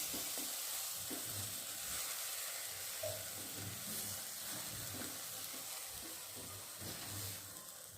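Dill greens (shepu) bhaji is stirred in a pan, giving a steady, soft sizzle with low, irregular scraping thumps from the stirring. No one speaks.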